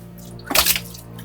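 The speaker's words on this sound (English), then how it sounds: "it's pouring underneath the cabinet" A short burst of water gushing and splashing out from underneath a cabinet, a single rush rising and fading within about a second over a quiet background.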